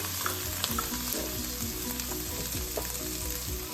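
Onions and two large red tomatoes fry in a pan for paneer butter masala, a steady close sizzle and crackle with occasional stirring scrapes and small pops.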